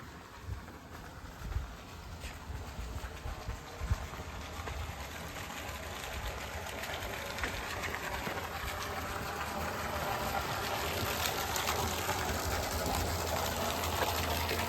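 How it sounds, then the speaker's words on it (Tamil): Borewell pump running on a farm grove with water flowing into a tank, a steady close rushing gush with an underlying motor hum that grows slightly louder over time, no talking. "போர் ஓடுறது ஓடுறது பாருங்க"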